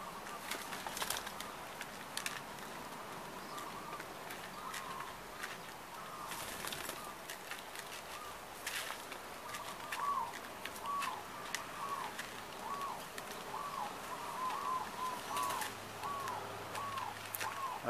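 Zebra doves inside a bucket give a series of soft, repeated cooing trills. Scattered bursts of wing flapping and scuffling sound up close, and faint background noise runs throughout.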